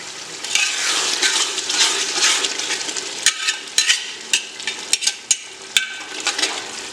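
Masala frying in a pan after stock is poured in, a dense bubbling sizzle that eases into sharp scraping and stirring taps.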